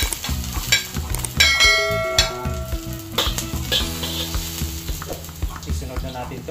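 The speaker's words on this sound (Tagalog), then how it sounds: "una natin gigisahin itong ating luya" Ginger sautéing in a hot pan, steady sizzling with metallic stirring clinks and scrapes, close and loud, with light background music tones.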